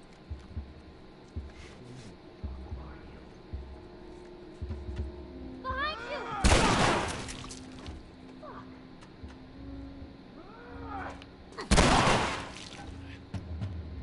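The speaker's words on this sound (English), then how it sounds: "I shot a shotgun towards a little girl" Two loud, booming shotgun blasts in the video game The Last of Us ring out several seconds apart over a low, tense ambient background, with faint game voices in between.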